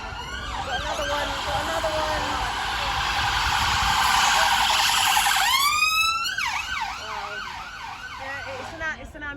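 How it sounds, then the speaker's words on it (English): An ambulance passes outside a punk rock gig venue, its siren wailing and then switching to rapid rising-and-falling yelps, loud and fairly close over a background hum. "It's an ambulance."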